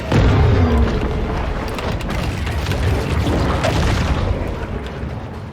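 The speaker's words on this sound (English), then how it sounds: "Bet you didn't think I had torpedoes" Underwater torpedo explosions in a shark game: a heavy, muffled boom opens, then a continuous low rumbling churn with scattered thuds and pops, loud and sustained without pause.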